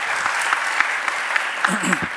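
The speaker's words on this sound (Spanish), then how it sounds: "Lo recibimos igualmente con un cordial aplauso." Audience applause at an economic forum welcomes the chief economist for Peru of BBVA Research, steady dense clapping filling the room for a couple of seconds, with a few voices surfacing near the end.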